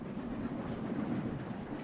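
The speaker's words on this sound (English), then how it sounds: "the train begins to jolt heavily" The last wagon of a nearly 30-car freight train loaded with beehives rumbles and rattles on the rails in China, a steady, dense, moderately loud low roar with no voices.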